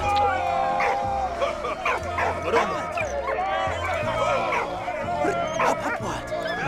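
Dogs bark and yip repeatedly in the WWI video game Valiant Hearts, with whimpers mixed in, heard over game music and speech that runs throughout.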